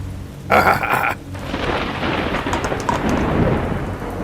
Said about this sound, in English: That lightning was well timed.